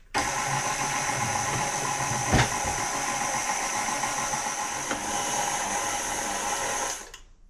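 A stand mixer with a dough hook kneads zopf dough, giving a loud, steady motor whir with faint rhythmic churning throughout until it switches off at the end; no talking.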